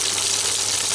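Whole okra pieces hitting hot oil in a pan for a mustard-poppy bhindi masala, giving a steady, dense sizzling hiss throughout the brief moment, close and fairly loud with no voices.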